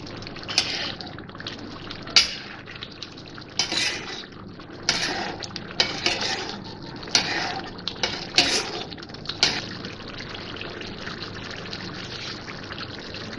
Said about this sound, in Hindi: घी डाल रही हूँ मैं।